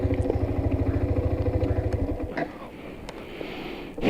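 A motorcycle engine idling with a steady, rapid chugging pulse that cuts out about halfway as the bike is stopped, followed by quieter outdoor clatter and a faint click, heard close.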